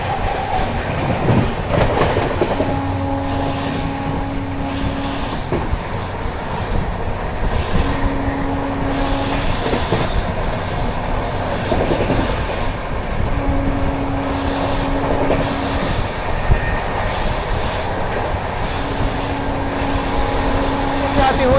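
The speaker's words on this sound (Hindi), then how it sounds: "अब दिखाते हैं शालदा राजधानी एक्सप्रेस" The Sealdah Rajdhani Express running on Indian rails, a loud steady rumble with rhythmic clickety-clack from the wheels and repeated tonal hums, heard close up throughout with voices in the background.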